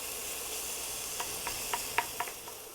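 Onion and garlic sauté gently in a pan with a soft, steady sizzle, and a few light stirring clicks come toward the end.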